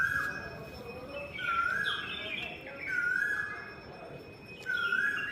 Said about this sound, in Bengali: কোকিল কোন সময় ডাকে?